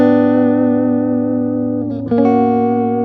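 A major triad chord rings out on guitar with sustained, bright harmonic tones, then is re-strummed near the end and keeps ringing. No one speaks.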